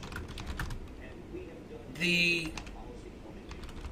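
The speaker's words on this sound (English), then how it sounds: "I'm just typing exactly what they typed me" Soft, quick keyboard clicks tap away at close range, with a brief louder burst of clatter midway; faint background noise throughout.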